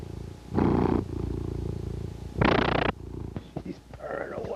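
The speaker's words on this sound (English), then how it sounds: "She's purring away." Close, steady cat purring rumbles throughout, with two loud breathy bursts and some rustling toward the end.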